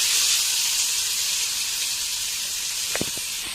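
Onion and green chili sizzling in a hot pan for leftover kothu chapathi, a steady loud hiss with a couple of brief clinks near the end.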